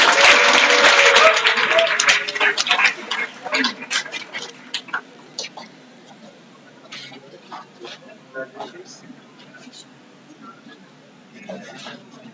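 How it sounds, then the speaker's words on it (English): An audience at a VESIT college event gives a round of applause: dense, loud clapping for a few seconds that thins into scattered, fading individual claps. "Audience can give a big round of applause."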